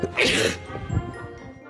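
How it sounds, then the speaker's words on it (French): A single sharp sneeze bursts out near the start, followed by faint background noise and a soft breath. "Ou un éternuement."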